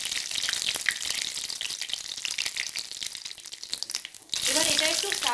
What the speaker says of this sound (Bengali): এবার এর মধ্যে আমি সাদা জিরে ফোড়ন দিয়ে দিচ্ছি। দিয়ে দিচ্ছি একটা তেজপাতা, এলাচ, লবঙ্গ, দারচিনি।